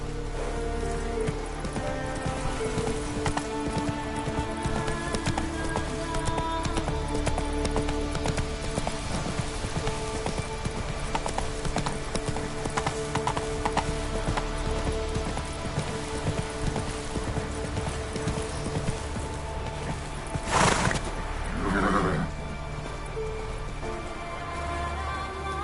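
Roach, a horse in The Witcher 3, gallops in a steady, rhythmic clip-clop of hooves that carries on throughout, with rain-like patter behind it and a brief louder burst near the end.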